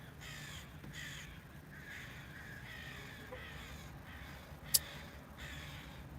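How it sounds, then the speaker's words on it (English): Crows cawing outdoors, heard from inside a parked car, a steady series of rhythmic harsh caws at moderate distance over a low background hum, with one sharp brief click near the end and no talking. "Here's some crows out there, though. Those crows."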